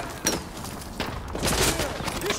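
Shotgun blasts in Call of Duty: Modern Warfare 2 Remastered, a few heavy bursts spread over the moment amid busy game noise, with faint talk in the background.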